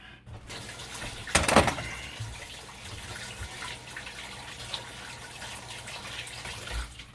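A kitchen faucet runs water over a rack of ribs, starting with a brief louder gush of splashing, then settling into a soft, steady stream with faint handling sounds, no talk.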